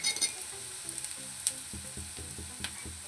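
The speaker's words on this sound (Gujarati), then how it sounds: "મરચાં પણ અત્યારે જ એડ કરી દઈશું એટલે એની સાથે પાકી જાય" Green chilies fry in a pan for a peanut bhajiya curry, sizzling steadily up close while a spoon stirs them, adding light scraping and tapping strokes at irregular intervals.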